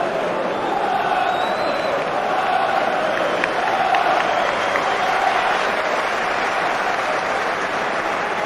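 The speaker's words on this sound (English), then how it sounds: "got a round of applause then from the Sunderland supporters as he lined up this corner" A large football stadium crowd of Sunderland supporters applauds steadily throughout, a dense, even wash of clapping from many people with a faint murmur beneath.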